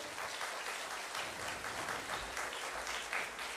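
Steady applause from a crowd, many hands clapping continuously at a moderate, even level.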